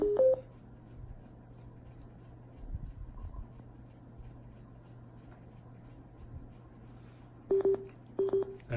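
Two EarFun Go portable Bluetooth speakers sound short electronic pairing and connection tones, a brief chirp at the start and a few quick beeps near the end, over a faint background hum.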